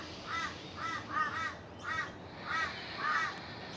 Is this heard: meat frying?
no